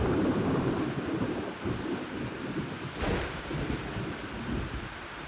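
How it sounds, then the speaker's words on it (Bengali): Heavy rain pours steadily in a dark pre-dawn storm from an animated story, with a rumbling thunderclap swelling around the middle before the downpour carries on alone. "ঝমঝম বৃষ্টি পড়ছে"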